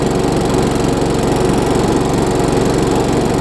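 Craftsman self-propelled lawn mower with a Tecumseh engine running steadily at a constant speed, loud and close, a continuous throbbing drone with no pauses or talk.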